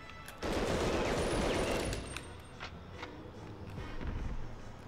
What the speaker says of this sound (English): He was shooting.